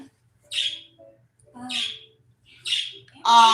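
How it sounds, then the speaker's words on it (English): Pet birds squawk and chirp indoors in three or four separate bursts, loud and close, the last call harsher and more tonal, with quiet gaps between them. "Sorry about my birds, y'all."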